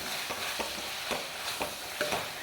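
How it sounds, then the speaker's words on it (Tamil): A spoon stirs plain parotta salna curry in a pan; about five rhythmic scraping strokes cut through a soft, steady sizzle up close, with no talk. "இதை அப்படியே நல்லா கிளறி விடுங்க."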